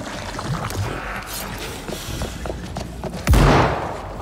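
A sudden loud boom of a Dead Island 2 explosion in metro tunnels bursts out over ongoing game noise, then rumbles and fades.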